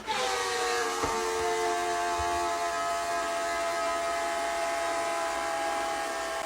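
A steady, loud whistling drone with layered tones and a faint hiss, sustained throughout without pause, like a toilet refilling with a strange tone.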